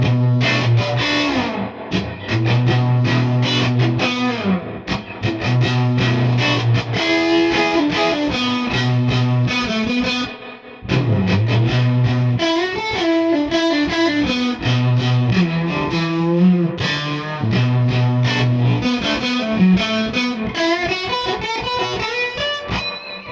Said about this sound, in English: this time the amp is on 10, there's no pedal involved, this is just the distortion from the